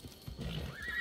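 A horse neighs in the video game Assassin's Creed Odyssey, a short, fairly faint whinny with a soft rising tail, heard alone.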